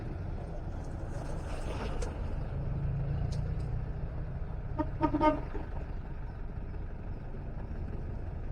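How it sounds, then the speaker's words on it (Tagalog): Hens cluck in brief bursts over a low, steady background rumble by a road around Lake Lanao, with a louder cluster of clucks partway through. "Yung mga manok na kukulit."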